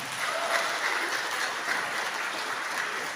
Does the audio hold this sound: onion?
no